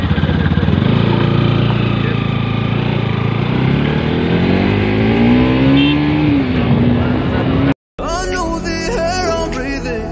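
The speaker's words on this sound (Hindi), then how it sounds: "तो फाइनली गाइस गाड़ी स्टार्ट हो गया" Bajaj Pulsar NS200 BS4 motorcycle carrying a pillion rider on a highway, its loud engine droning steadily and then rising in pitch as it accelerates, with a short break before the engine noise resumes.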